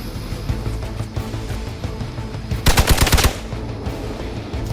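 Rapid machine-gun fire rattles out in a dense burst of about half a second over a busy background of game sound effects and ambience in Marvel Midnight Suns, with no talking.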